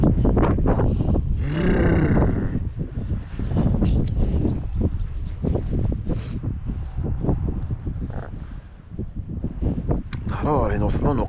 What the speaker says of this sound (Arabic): سير الريح